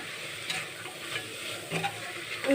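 Thread samosa filling, seasoned with turmeric, salt and coriander powder, sautés in a pan with a soft, steady sizzle broken by a few scraping stirs, fairly quiet and close, with no speech.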